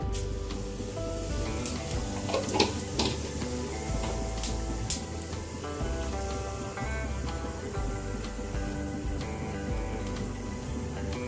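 Cumin seeds splutter in hot oil for a spinach thokku, making a dense, continuous crackle and sizzle with sharp pops scattered across it and a steady tonal layer underneath.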